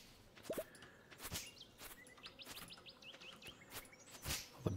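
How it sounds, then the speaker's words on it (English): Birds chirping outdoors in the video game Stardew Valley: quick, bright chirps and short trilled calls scattered over soft ambient noise, with a few light taps. "All the bird sounds outside the place I haven't been in a while."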